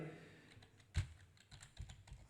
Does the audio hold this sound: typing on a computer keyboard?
yes